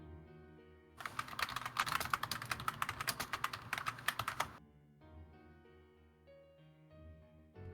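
Rapid keyboard typing from the video game Read Only Memories, a dense burst of clacking keystrokes lasting a few seconds over a quiet background tone, then stopping abruptly.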